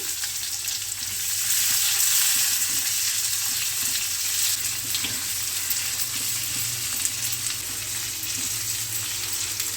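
Medium-sized onion, sliced long, sizzling in hot oil for a chana dal with bitter gourd dish: a bright, continuous frying hiss with faint crackles and stirring scrapes, close and steady, swelling briefly near the start.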